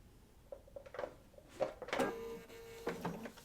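A sewing machine stitches a quilt block with a lock stitch, a quiet, uneven train of mechanical clicks and whirring bursts picking up speed.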